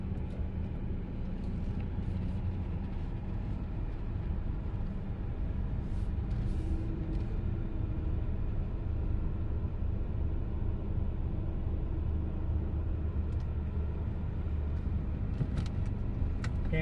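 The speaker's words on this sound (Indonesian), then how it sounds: "Kita mau cobain dulu mobilnya nih, mau test drive" A 2012 Mercedes-Benz E250 Coupe with AMG package, driven in eco mode, accelerates with a steady low engine and road drone heard from inside the cabin, continuous throughout with no talking.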